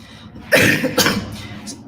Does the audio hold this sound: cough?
yes